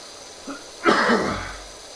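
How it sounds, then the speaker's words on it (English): A single harsh cough or sneeze-like burst from a person recovering from illness, close and fairly loud, preceded by a faint short vocal sound and trailing off over about a second. "Sorry for the coughing"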